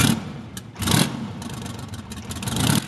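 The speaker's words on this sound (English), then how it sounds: "The Detroit Diesel Series 71 is a two-stroke diesel engine that comes both inline and V configuration by Detroit Diesel." A Detroit Diesel Series 71 two-stroke diesel engine runs roughly nearby, its loud rattling roar surging in a few uneven bursts with no voices.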